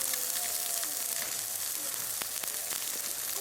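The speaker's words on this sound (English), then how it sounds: "So we'll let that sear for a minute." A prime rib roast searing over charcoal coals outdoors, with a steady, close crackling sizzle and occasional pops throughout and no talking.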